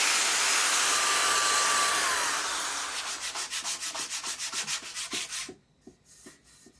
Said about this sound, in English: ground all the rust and old paint off